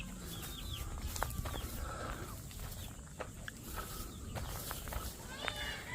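Many chickens at a pineapple farm in Tagaytay, scattered clucks and rooster-like calls over a busy outdoor background, with footsteps and people talking nearby.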